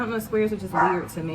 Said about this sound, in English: our dog has just been barky-licious